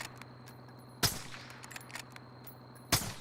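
Gunshots in the video game Call of Duty: Warzone, fired from an AMAX rifle or SPR 208 sniper rifle: two sharp, loud cracks about two seconds apart over quiet in-game ambience, with faint smaller shots between them.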